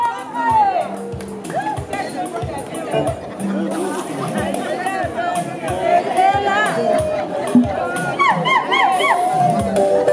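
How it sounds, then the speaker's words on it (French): Wedding guests at an aperitif in Geneva cheer and whoop as a sustained crowd roar, with shouting voices and chatter mixed through the whole stretch. "On acclame pour nous-mêmes et puis on avance."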